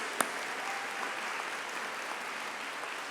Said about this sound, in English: So let's give them a round of applause for that.